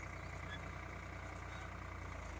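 A tractor's engine runs steadily while it ploughs farm fields, giving a continuous low rumbling drone with no pauses, close by and not covered by talk.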